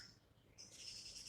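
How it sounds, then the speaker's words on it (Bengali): Birds call at dawn over an empty street, with a brief faint high call followed by a steadier thin chirring, soft and distant against the quiet. "শুধু পাখিগুলো ডাকছে"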